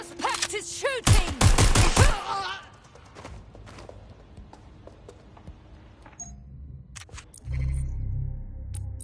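A suspect opening fire in Watch Dogs: Legion, a rapid burst of close, loud gunshots around the one-to-two-second mark, then quieter scattered activity before a low rumble returns near the end; a voice speaks briefly.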